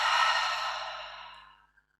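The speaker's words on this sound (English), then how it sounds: "breathing deeply out through the mouth" A single long, deep exhale through the mouth during gentle yoga, a close breathy rush that fades steadily to silence over about a second and a half.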